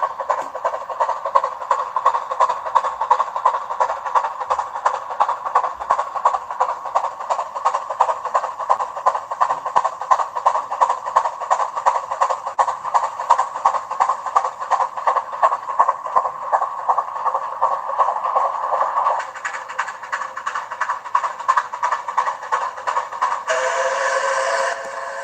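A coal-hauling railroad locomotive rolls past with a steady rhythmic clatter of wheels over rail joints, continuous for a long stretch and fairly close, shifting tone near the end.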